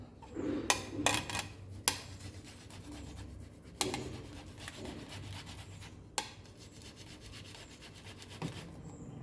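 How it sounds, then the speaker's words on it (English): A boiled potato is rubbed against a grater in a few close, irregular rasping strokes, with quiet pauses between them and no voices. "And we will grate this potato."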